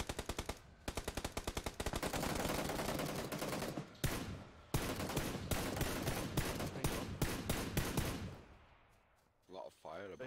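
Bursts of automatic gunfire in PlayerUnknown's Battlegrounds: long runs of rapid shots with brief pauses between them, loud and close, tapering off toward the end as voices come in.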